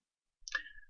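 A single quiet computer mouse right-click, one short faint tap against near silence.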